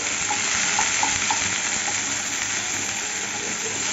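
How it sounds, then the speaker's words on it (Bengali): Chopped tomato and chili hit hot oil with onions in a pan, giving a dense, steady sizzle and crackle that fills the whole stretch without pause. "এখন টমেটোটা একটু ভেজে নেব হালকা করে।"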